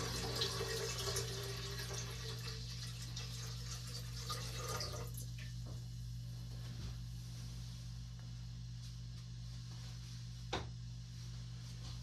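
Electrolyte solution for refining sterling silver being poured into a beaker: a steady close splashing pour for about five seconds, then a quieter trickle with one brief clink near the end.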